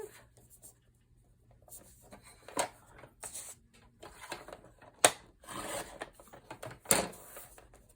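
Paper from a 6x6 pad being cut in a few sharp, close strokes, with soft rubbing and handling between them and no voices.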